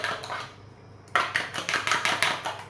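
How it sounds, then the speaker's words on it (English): A fork whisks egg and milk together in a bowl for meat pies, giving a quiet start followed by a quick run of bright clinking, scraping strokes against the bowl's side, close and steady with no talk. "Incorporate the egg and the milk completely."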